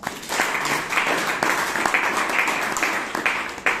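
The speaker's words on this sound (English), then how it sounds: "the evaluator and the speaker pair requires another round of applause from us" Applause from a Toastmasters club meeting audience in Bangalore, a dense, even wash of clapping that holds steady at moderate loudness through the few seconds without voices.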